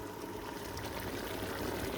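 Water poured from a jug into a pan of softening onions while making Indian restaurant-style base gravy, a steady close hiss and trickle lasting the full two seconds with no talking.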